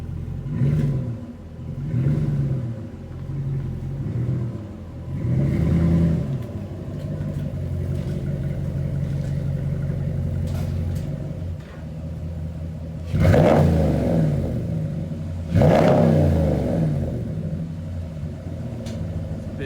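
A Ram truck engine fitted with an aftermarket Amazon air intake idles and revs in repeated surges, a deep rumbling engine heard close, with no talking.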